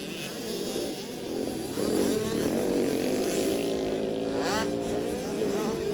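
65cc motocross motorcycles racing in a final heat, small two-stroke engines buzzing and revving at high pitch, several bikes overlapping with rising and falling whines, steady and fairly loud throughout.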